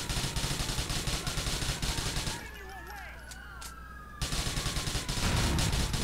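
Loud automatic gunfire rattles in GTA IV, sustained rapid shots that cut out for about two seconds, leaving a wailing police siren alone, then resume just as heavily.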